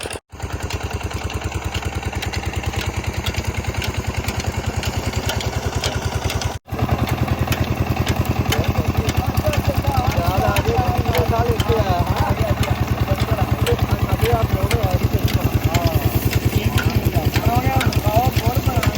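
An old farm engine runs in a Pakistani village with a loud, steady, rapid thumping beat that continues almost without a break, while people talk over it.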